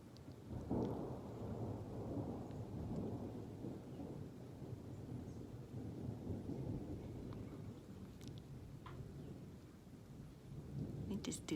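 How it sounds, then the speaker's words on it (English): Thunder rolling in a long, low, distant rumble over steady falling rain, the rumble swelling and fading across the whole stretch, with a few faint ticks of drops, quiet and alone. "Don't you love the sound of thunder?"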